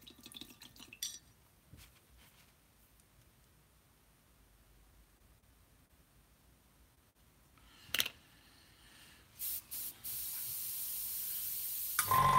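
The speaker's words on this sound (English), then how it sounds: "we just spray our paint onto our model." Hairspray and chipping fluid sprayed onto a scale model: quiet handling noises and small clicks, then short hissing spray bursts near the end leading into a sustained, close hiss.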